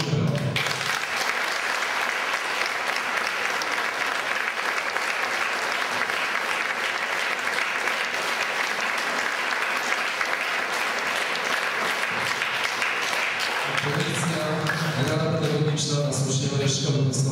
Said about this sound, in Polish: I proszę o brawo.